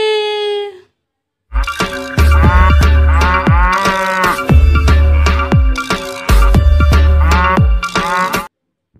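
A toy cow moos several times in long, drawn-out calls, loud and close, with brief pauses between them.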